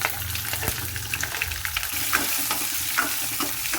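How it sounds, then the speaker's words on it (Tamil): Chana dal, cumin, mustard seeds and curry leaves tempering in hot oil crackle and sizzle steadily up close, with small popping bursts and a spoon stirring now and then, no voices. "இப்போ தாளிக்க போகிறேன். கடலைப்பருப்பு, கொஞ்சம் ஜீரகம், கடுகுங்க, கருவேப்பிலை, போட்டாங்க"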